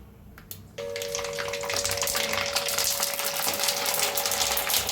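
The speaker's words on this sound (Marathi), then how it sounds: "तेल चांगलं गरम झालेलं आहे, तळूया आता" A sabudana papad goes into hot oil and fries with a sudden loud, steady bubbling sizzle that stays close and continuous after a quieter start.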